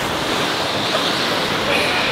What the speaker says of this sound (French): mais il y a du vent à mort dehors.